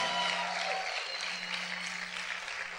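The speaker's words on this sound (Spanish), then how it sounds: "¿Cuántos pueden gritar y aplaudir fuerte al Señor?" Church congregation clapping for the Lord during a worship service, a broad wash of applause at moderate level with a steady low hum underneath.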